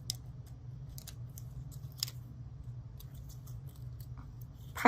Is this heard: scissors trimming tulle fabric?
yes